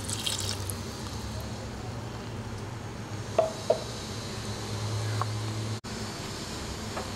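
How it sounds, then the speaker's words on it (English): Water is poured into a Hyderabadi chicken haleem mixture, making a faint, steady trickling over a low background hum, with a couple of brief splashes. "After mixing, now add water to this."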